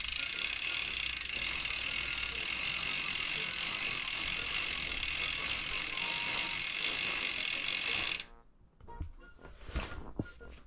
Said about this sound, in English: it makes a pretty nice little noise when you're spinning the pedals or when it's freewheeling